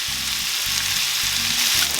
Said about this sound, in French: on remue bien de manière à laisser fondre l'ensemble des oignons et bien rissoler les lardons